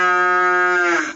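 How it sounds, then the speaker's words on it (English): A red and white cow gives one loud, close moo. The low, sustained tone rises and tails off after about a second, and nothing else is heard. "These are red and white cattle."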